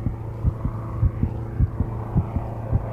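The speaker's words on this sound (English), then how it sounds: "Greg hears the sound of an engine, but he can't see the plane" An aircraft engine drones overhead with a low, steady throbbing hum and regular rhythmic pulses, the constant note continuing without any voices.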